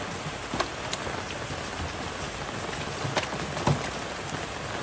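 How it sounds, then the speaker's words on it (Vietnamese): Heavy rain pours steadily over a field as dense, even hiss with occasional louder drop impacts, continuous and close, no voices. "Quá trời mưa cả nhà ơi"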